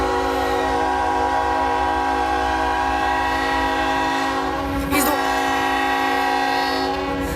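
CSX coal train led by GE Evolution-series locomotive 3313 passing close in Grafton, West Virginia, a steady loud rumble of wheels and engine with a blast of the horn midway.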